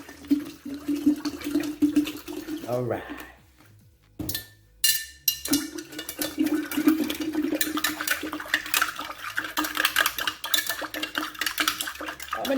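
Water poured into a pot of cornmeal being cooked with spinach and smoked herring, then stirred with a utensil, scraping and sloshing loudly and close up, with a short pause midway and a brief spoken word.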